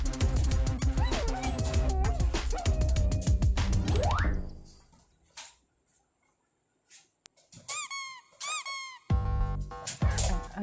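A rubber duck toy squeaks repeatedly in sharp, rapid bursts, first amid busy music, then alone in short squeezes after a quiet stretch.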